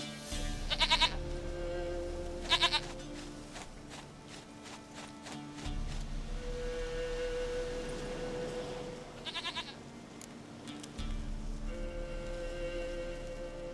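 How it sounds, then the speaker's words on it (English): A goat in The Witcher 3 gives a few short bleats over rain pattering steadily on surfaces, the calls moderately near and separated by pauses. "Goat of mine, dearest, sweetest goat."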